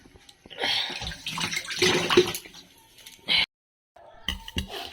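Tap water running while katla and pabda fish are washed in a home kitchen, a steady close splash with light clinks of dishes, briefly cutting out near the end before resuming.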